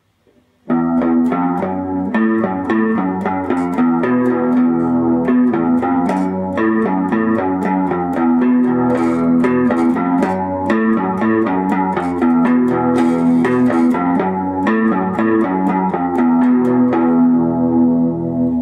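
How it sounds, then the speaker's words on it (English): Electric guitar playing the intro riff of a song in repeated picked notes, with a shimmering tone from chorus and delay, continuous and loud for nearly twenty seconds, with no talking. "I'm sort of emulating this sound by using a bit of chorus and a bit of delay"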